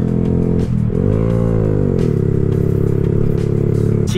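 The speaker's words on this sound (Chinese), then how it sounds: "它排气管确实有点大声。" A Honda Grom MSX 125 mini motorcycle fitted with a full Yoshimura exhaust pulls away and accelerates, its loud, close engine note rising through the revs, dipping briefly at a shift, then climbing again.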